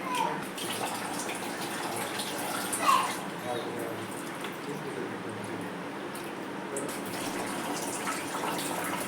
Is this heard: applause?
no